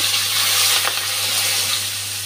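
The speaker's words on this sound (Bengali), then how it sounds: "লঙ্কাটা ভাজা হয়ে গেছে, তেজপাতা দিয়ে দিচ্ছি," A bay leaf hits hot oil in a pan where dried chillies have just fried for paneer, giving a steady, fairly loud hiss of sizzling throughout with one brief crackle midway and no talk.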